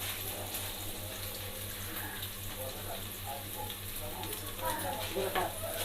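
Tempering seeds fry in hot oil with a soft, steady sizzle and light crackle, fairly faint, under low background noise and faint voices.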